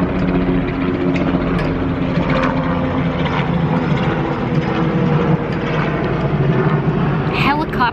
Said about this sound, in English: Here comes another helicopter.